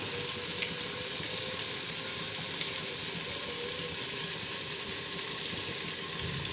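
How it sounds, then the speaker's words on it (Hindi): Spice paste with green chili, tomato, ginger and garlic paste sizzles steadily in hot ghee while frying for shaljam, a continuous close crackle with faint stirring. "तब तक भूनेंगे जब तक घी और ये मसाला बिल्कुल लैदा ना हो जाए"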